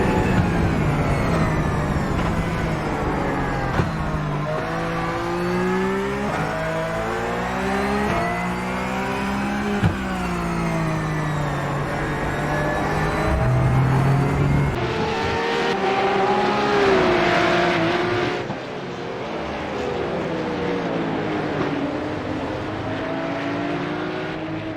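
Race cars lapping the Brands Hatch circuit in a PCC round, engines droning and revving steadily for the whole stretch, with shifting pitch as cars pass and a louder surge of several engines near the middle.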